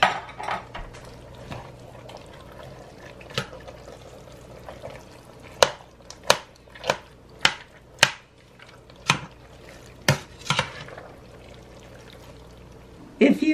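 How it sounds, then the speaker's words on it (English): Cooked rice is stirred into a cabbage mixture in a pot, producing a run of sharp spoon knocks and scrapes against the pan at irregular intervals over a soft background hiss. "Now I'm adding my cooked rice, and we'll blend this in, stir it in"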